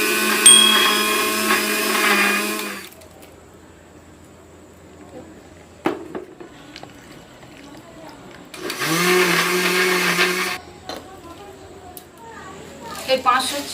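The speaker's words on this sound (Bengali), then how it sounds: "এই 500 চিনি আমি এই মিক্সার জারের সঙ্গে পেস্ট করে নেব" Kitchen mixer grinder blending mango, milk and sugar for a milkshake, two loud whirring bursts of a few seconds each separated by quiet pauses with faint clinks.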